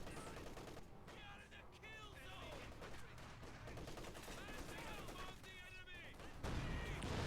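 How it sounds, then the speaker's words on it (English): A T-34 tank's coaxial machine gun fires in a World War II strategy game, rapid rattling bursts amid dense distant battle noise and mechanical clatter, with a voice talking over the fighting. "It's got an awesome coaxial machine gun now."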